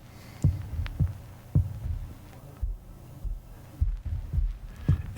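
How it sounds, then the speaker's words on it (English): A looped record-scratching sound effect used as a rhythmic element in music production, repeating low, thumping scratch bursts in a steady pulse, moderately loud and alone. "So I have this record scratching loop thing."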